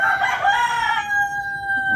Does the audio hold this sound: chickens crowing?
yes